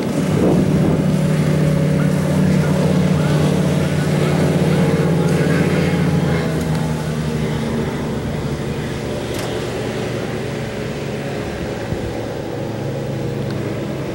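A 1997 Grady White 272 Sailfish motorboat runs at full throttle, its engine drone loud and steady with a rising pitch early on, then settling into a sustained roar over rushing wind and water.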